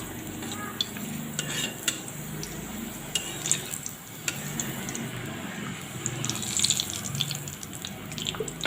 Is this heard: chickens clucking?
no